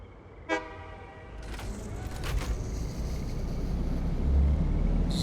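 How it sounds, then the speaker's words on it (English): A train pulling into a station in the video game Satisfactory: a short horn toot, then clanking and a rising rumble of wheels as it rolls in, ending in another brief tone. "Train has just pulled into the station."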